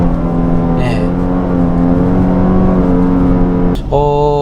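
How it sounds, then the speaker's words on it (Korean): A Genesis GV70 2.5T engine revs hard around 5000 RPM in second gear, a loud sustained buzzing drone that holds steady, then shifts pitch abruptly near the end. "엔진 사운드가 거칠다기보다는 음색 자체가 조금 듣기에는 좋지 않아서"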